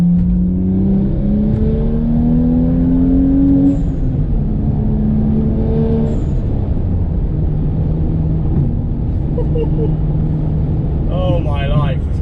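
A 420HP BMW with a stage 2 tune accelerates hard, its engine note climbing in pitch through the gears with loud, steady drone and rising revs, heard from inside the car.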